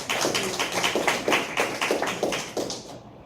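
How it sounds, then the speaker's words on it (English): A small audience applauds at a public forum on marijuana law reform, steady overlapping claps in a quick, fairly even pulse that fade out at the end. "Let's receive our friend Kurt Donley with a round of applause."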